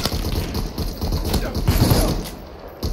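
Gunfire in the Super People battle royale game, a rapid fusillade of sharp cracks and thumps clattering over a busy background, with voices faintly mixed in.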